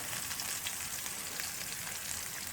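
Chopped onions and ginger fry in oil for a Malaysian-style prawn biryani, a steady, even hiss of sizzling at low to moderate level throughout, close by and uninterrupted, with no talking.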